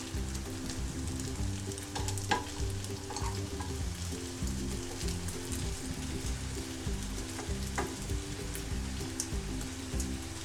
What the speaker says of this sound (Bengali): ভাজাটা যেন খুব ভালো হয়, একদম ভিতর পর্যন্ত যেন ভাজা হয়ে যায়, আর খুব ক্রিস্পি যেন হয় ভাজাটা।